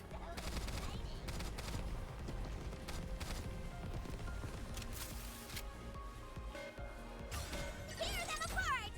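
Dense video game gunfire with rapid bursts and volleys of bullets mixed with impacts and crashes, loud and continuous beneath a lively voice speaking.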